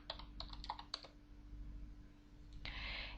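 Computer keyboard keys clicking in a quick burst as a command is typed for the Aardwolf MUD text game, then a pause and a short final patter, all faint and close.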